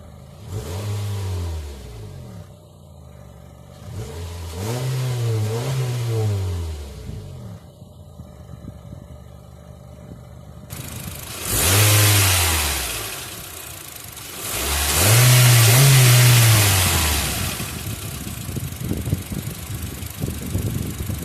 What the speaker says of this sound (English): It's a pretty good sounding 4-cylinder engine.